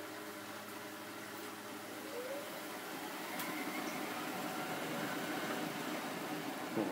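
A Miele W562 washing machine running its final spin cycle on a woollens programme gives a steady, broadband whooshing hum. The drum noise builds gradually over several seconds as the spin speeds up, with no voices.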